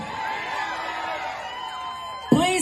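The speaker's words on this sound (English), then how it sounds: "Please keep that applause rolling" Outdoor crowd at a trans rights rally in Dayton, Ohio, cheers and whoops in a steady moderate roar, with a sharp louder shout near the end.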